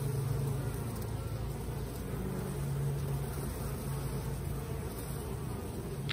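A dense, steady drone of honeybees swarming around a strong hive, constant and close, with no voices over it.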